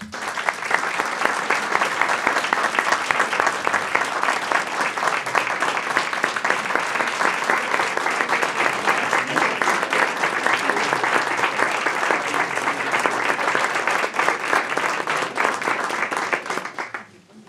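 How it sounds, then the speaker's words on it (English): A long, steady round of audience applause for retirees at an evening school event, dense and even clapping that fills the room without a break before dropping off sharply at the end. "One last round of applause."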